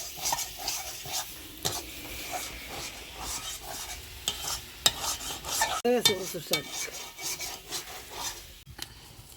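Chopped taro leaves are dry-fried in a pan and stirred repeatedly, a utensil rasping and scraping against the pan over a faint sizzle in uneven strokes, close and fairly quiet, with no talking.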